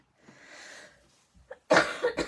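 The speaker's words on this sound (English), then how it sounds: "I still have a little cough from my cold" A woman coughing from a lingering two-week cold in a home craft room, a short breathy throat sound followed by a couple of sharp close coughs at the end.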